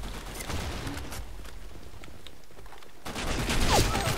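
Rapid bursts of gunfire from the competitive shooter game Blackshot crackle continuously at moderate distance, with a louder, denser volley near the end.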